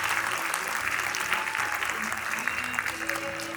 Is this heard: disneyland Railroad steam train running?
no